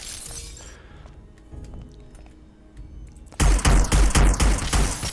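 Gunfire in Hitman bursts in late after a quieter stretch of scattered clicks and clatter: a loud, close run of rapid shots, each crack distinct with a heavy low thump, and no talking.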